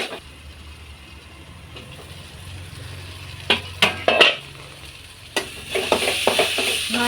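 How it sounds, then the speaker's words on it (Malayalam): Crushed green chilli mixture is stirred and sautéed in a pan, a low sizzle running underneath while a spoon scrapes and clinks against the metal in sharp bursts, busier toward the end. "ഇതിൻ്റെ പച്ചമണം മാറുന്നത് വരെ നമുക്കൊന്ന് വഴറ്റി കൊടുക്കാം."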